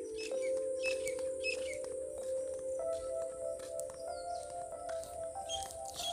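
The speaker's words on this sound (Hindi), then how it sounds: "बैकग्राउंड में आप चिड़िया की आवाज़ फिर सुन सकते हैं।" Small birds chirp and tweet in scattered, high calls against a steady, humming outdoor background, faint and somewhat distant.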